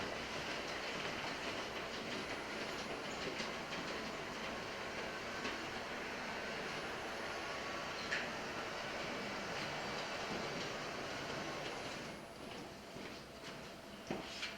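An RDC railcar pair on a model railroad runs steadily with continuous rolling wheel noise and faint clicking over rail joints, fairly close, with no talking.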